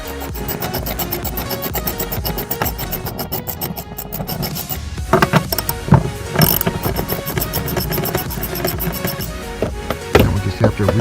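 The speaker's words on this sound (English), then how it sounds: "you're going to be turning that ratchet for an hour" A ratchet wrench clicks in quick bursts while tightening bolts, its pawl chattering loud and close with brief pauses and some rubbing and clanking between strokes.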